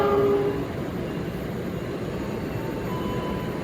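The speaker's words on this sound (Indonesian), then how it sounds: "Pertemuan dua kereta Bandung, yang satu new generation stainless steel, yang satu masih belum new generation stainless steel." Passing trains in Bandung, one a new-generation stainless steel train, make a loud, steady rumble that fills the whole stretch, with a brief horn-like tone at the start and no talking.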